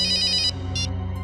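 A telephone ringtone sounds in two loud electronic trilling bursts, the first longer, the second short, clear and close over a low background hum.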